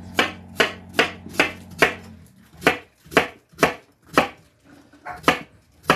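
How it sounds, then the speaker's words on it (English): A knife chops cilantro, jalapeños, cranberries and green onions directly on a kitchen cabinet surface, about a dozen sharp, evenly spaced thuds, loud and close, with a low hum early on. "I'm cutting right on my cabinet"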